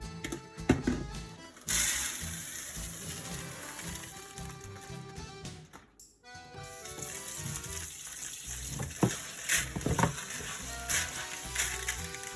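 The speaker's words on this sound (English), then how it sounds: "we'll take our lentils and we are going to rinse them out in this" Lentils are rinsed under running tap water, a steady gushing splash that drops out briefly midway, then resumes with bursts of sloshing and clinks.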